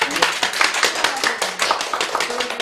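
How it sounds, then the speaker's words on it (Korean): A small audience claps together at a Korean queer live talk show marking Conscientious Objectors' Day, with brisk, uneven handclaps running steadily from start to finish at close range. "박수 한번 칠까요?"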